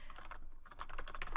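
Quick, close-up keystrokes are tapped out on a computer keyboard, a brief burst of light clicking that picks up pace toward the end.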